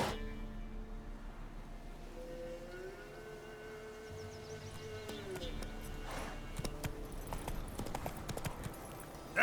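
Steady clip-clop of the horse Roach trotting in The Witcher 3, a rhythmic hoof beat running throughout over game music and ambient tones, with a brief heavier burst of clatter near the end.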